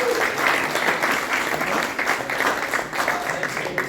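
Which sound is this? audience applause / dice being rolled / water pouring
audience applause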